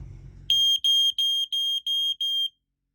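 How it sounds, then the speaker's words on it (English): A carbon monoxide alarm being tested aboard a sailboat gives six sharp, high-pitched electronic beeps in an even rhythm, loud and close, after a moment of low background noise, then silence. "That's the carbon monoxide alarm testing."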